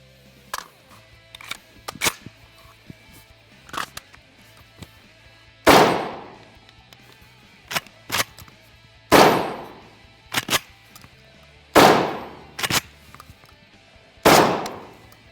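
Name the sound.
Vepr-12 VPO-205-03 shotgun firing shots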